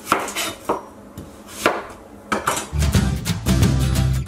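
A knife slices through a yellow onion on a board, a series of close, crisp cuts with uneven rhythm, getting denser and busier toward the end amid light kitchen clatter.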